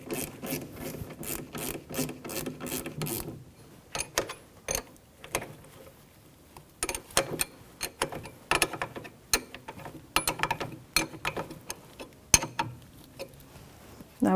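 Mechanical clicking and rasping as a socket is run down on the bottom brake caliper slide pin of a 2007-2017 Jeep Patriot, 14mm socket; close, dry bursts of rapid ratchet-like clicks in short runs separated by pauses.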